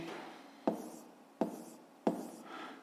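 A pen writes numbers in a notebook in three short, quiet scratching strokes, each a brisk close scribble separated by brief pauses.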